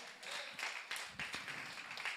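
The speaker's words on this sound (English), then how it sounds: "Give a bit of mighty applause to Jesus" Church congregation applauding during a worship service, a steady wash of clapping with a few sharper claps rising out of it, fairly faint and continuous over about two seconds.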